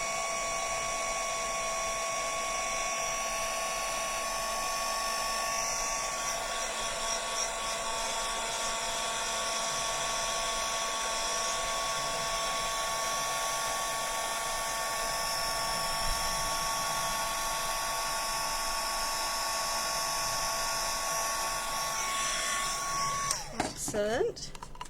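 A blow dryer hums steadily for a long stretch, drying glued rice paper in a vintage-style craft project, a constant whirring tone with a sharp clatter at the very end.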